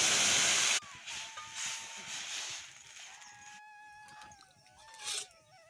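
Water is poured onto hot fried masala with coconut for a roasted-gram amti, making a loud burst of sizzle at the start that settles into a softer, ongoing steaming hiss.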